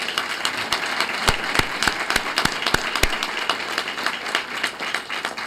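An audience at a professionalism award presentation gives steady applause, with sharp individual claps standing out close by over the general clapping.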